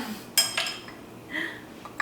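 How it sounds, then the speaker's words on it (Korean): A ceramic matcha bowl is handled, giving several light clinks and knocks with soft rubbing in between, close and fairly quiet. "마차 만드는 그릇이랑 이 차선을 사왔어요."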